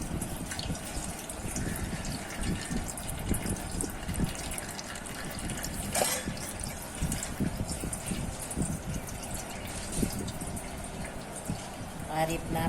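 Whey drips and trickles from homemade curd (dahi) gathered and tied in a cloth while making mango shrikhand, a steady watery patter under continuous talk.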